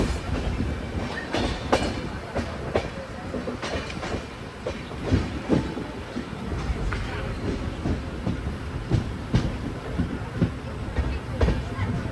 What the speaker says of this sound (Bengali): প্রবেশ করছি বর্ধমান জংশনের 5 নম্বর প্ল্যাটফর্মে।